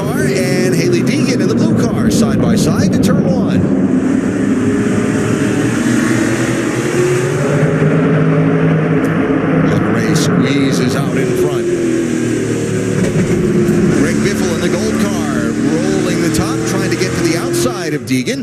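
SRX race cars roar hard on the restart at Stafford, a dense, loud engine wall sustained throughout with commentary running over it.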